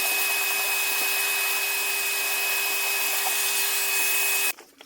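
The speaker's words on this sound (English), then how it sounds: "Give it all a nice big rub down." Easy fill filler on a media wall gets a steady, loud sanding rub-down, a continuous hissing abrasion for over four seconds before it stops abruptly.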